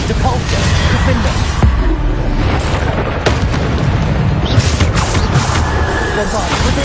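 Bombarda spell explosions in the Hogwarts Legacy video game during combat, a dense run of loud booming blasts and crashes that pile up continuously with no pause, under a shouting voice.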